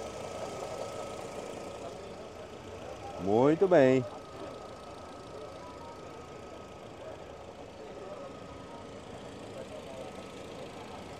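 A Fox car's engine idling steadily after starting at an outdoor used car market, a low even hum running throughout, with a brief spoken voice over it.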